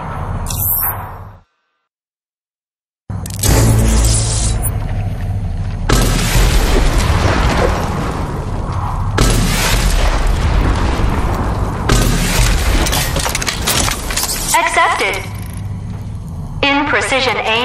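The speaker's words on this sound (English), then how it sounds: "It fires nanotrite-propelled rockets, which cause a large radius of damage." Smart rocket launcher in RAGE 2 firing nanotrite-propelled homing rockets, loud booming blasts and rumbling explosions rolling almost continuously after a brief silent gap, with bursts and pops layered through a dense, sustained roar.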